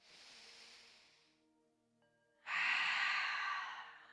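Deep, slow breaths during a Pilates exercise: a long soft exhale fades out, a brief quiet pause follows, then a strong rushing inhale or exhale swells up close and loud before slowly tapering off.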